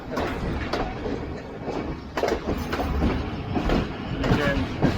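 A passenger train running from Ella to Kandy in Sri Lanka rumbles and clatters steadily along the rails, heard close up with occasional voices over it.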